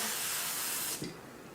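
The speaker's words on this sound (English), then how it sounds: "I'm going to spray just the back of" A spray can hisses steadily onto a flower arrangement made from natural materials, a close, even burst lasting about a second before cutting off into quiet.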